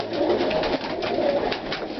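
Roller pigeons coo in a loft, soft throaty rolling calls repeating close by in a steady rhythm over a hum of background noise, no talking.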